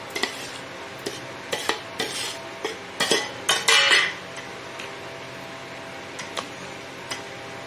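A spoon clinks and scrapes against a bowl in irregular taps while stirring ridge gourd, eggplant and tomato chutney, close up, with a soft hum in the background.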